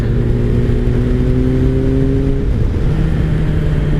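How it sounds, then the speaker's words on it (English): A 2003 Kawasaki ZR7S motorcycle's air-cooled 700cc four-cylinder engine drones loudly on a cold ride, with rising whining harmonics, then drops in pitch partway through as if shifting, steady and close. "It is a 4-cylinder, air-cooled, 700cc engine."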